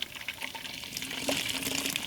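Hot, recently boiled water pours steadily into a water bottle at an outdoor bushcraft camp in northern Minnesota, a continuous close splashing fill with a faintly rising gurgle.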